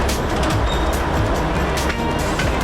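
A Russian locomotive rumbles through a factory yard in Vietnam, a loud, close, continuous mechanical roar with rattling and clanking, heard from on board.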